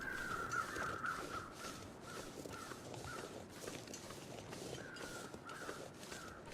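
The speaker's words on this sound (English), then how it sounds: "Set of crows flapping on the top of that hill." Several crows cawing in The Long Dark, a snowy wilderness survival game, heard as a series of harsh repeated calls at moderate distance over a steady windy background hiss.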